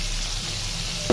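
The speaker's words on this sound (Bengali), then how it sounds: "মাছটা কিন্তু বেশি ভাজবো না, হালকা করে ভেজে" Prawns fry in a pan with a steady, close sizzle that runs for a brief moment without any talk.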